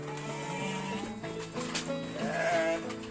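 Merino sheep bleat while jostling for silage feed, several overlapping wavering calls close by, rising and falling over a low background shuffle.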